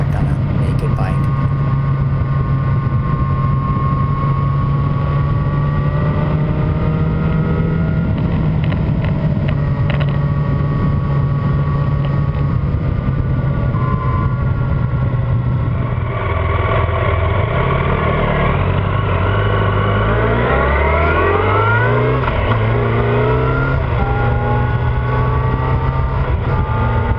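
A 2012 Yamaha FZ8 naked streetfighter motorcycle cruising at low RPM, its steady engine drone loud and continuous with wind rush, shifting through rising and falling revs in the second half.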